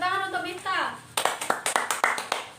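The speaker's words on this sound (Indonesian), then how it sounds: "Oke, beri tepuk tangan untuk Miftah." A voice speaks briefly in a classroom, then a small group of students breaks into scattered, sharp hand claps for a classmate that last a second or so.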